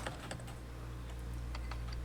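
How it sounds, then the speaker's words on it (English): Heavy, hard typing on a computer keyboard, a fast run of loud clacking keystrokes close up over a steady low hum, with no talk. "the sound of the typing is actually funnier than the talking"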